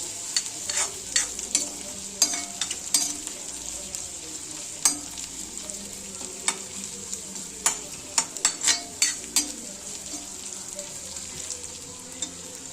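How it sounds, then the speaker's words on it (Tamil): Onions frying in a pan on a home kitchen stove, a steady close sizzle broken by frequent scraping and clinking of a spoon stirring them, with no talking. "ஆனியன் ஓரளவு மீடியமாக ஆனால் போதும், ரொம்ப ஃப்ரை வேணும்."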